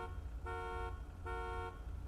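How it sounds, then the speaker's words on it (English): In the GTA 5 video game, a car alarm sounds as two sustained horn blasts, evenly spaced and moderately quiet, over a low engine rumble. "Why's the alarm going off?"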